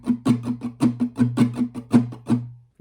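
An acoustic guitar plays strumming pattern 1 for a song, a close, crisp rhythm of about a dozen down and up strokes over sustained chords, ending on a let-ringing chord before stopping.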